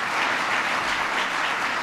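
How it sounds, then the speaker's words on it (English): A large audience at a cities-investment gathering applauds a guest: thick, continuous crowd clapping at even loudness throughout, with no distinct individual claps. "So give him a big round of applause."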